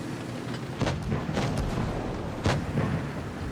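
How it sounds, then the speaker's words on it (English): Tank shells bounce off thick armor in the World of Tanks Blitz game, with a few sharp booming impacts over a rumbling, noisy battle backdrop and no speech. "you can just see how many shells are just bouncing off each other"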